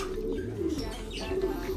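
Soft, low pigeon coos murmur close by, with a faint chirp and a quiet background hum.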